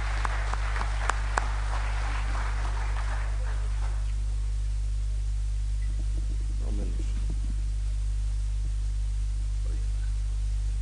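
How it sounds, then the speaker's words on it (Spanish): Applause at an Asturian song contest in Valle del Narcea, welcoming a singer from Villandás, Grao: a few seconds of dense crowd clapping that fades out, leaving a steady electrical hum and faint sounds from the hall. "Le recibimos con un fuerte y cariñoso aplauso."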